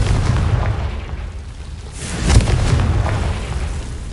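Confringo fire spell exploding in the Hogwarts Legacy video game: a deep, loud booming blast with a rumbling tail, a sharp impact peak midway, then continued low roar.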